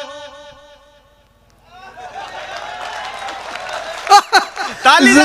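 An audience at a Hindi comic poetry gathering (hasya kavi sammelan) breaks into clapping and laughter after a performer's voice, the crowd noise swelling loud and close over the last few seconds.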